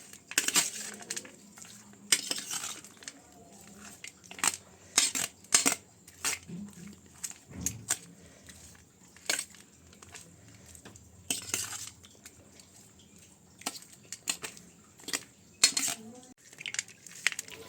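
A spoon clinks and scrapes in a bowl while lemon rice pulihora is mixed, sharp intermittent metallic taps and scrapes spread across a quiet background.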